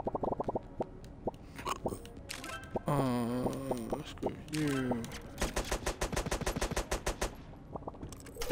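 Rapid cartoonish gunfire in the video game Turnip Boy Robs a Bank, fast rhythmic bursts of shots with a voice talking over the middle section, loud and close.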